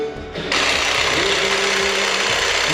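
A Craftsman 20-volt power tool with an overheating, smoking motor whirs at a steady, loud whine after a brief softer start, running continuously and close by.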